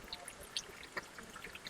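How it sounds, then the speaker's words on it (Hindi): Naturally cold spring water pours into a bottle at a roadside spring, a faint, soft trickling and gurgling with a few small splashes, brief and quiet. "ये मैंने पानी भर लिया है अभी"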